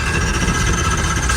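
Race car engine cranking over before a race, with a suspected bearing problem, a loud, dense, steady mechanical rumble and whine, close and alone, lasting just over a second.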